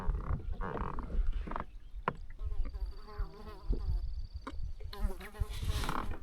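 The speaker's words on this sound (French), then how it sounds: "Je sais pas s'ils savent qu'ils sont fatigantes, les mouches." Flies buzzing around a kayak while fishing on Lac Marmette, a thin whining drone drifting near and away under intermittent talk and water sounds.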